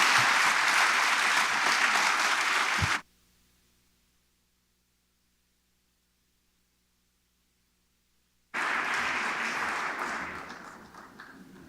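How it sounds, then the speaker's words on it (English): An audience at a housing summit gives a warm round of applause in two loud bursts separated by a stretch of near silence, the second fading gradually. "So please join me in a warm round of applause."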